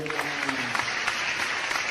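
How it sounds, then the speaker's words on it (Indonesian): Steady applause from a crowd, dense clapping that fills the whole stretch evenly with a faint voice underneath. "Tepuk tangan dulu dong, tepuk tangan dulu dong"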